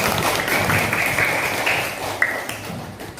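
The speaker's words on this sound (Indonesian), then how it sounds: "Tepuk tangan untuk Adli." Pupils in a classroom clap together for a classmate, a loud, brisk patter that stays full for a couple of seconds and then thins out with a few last claps.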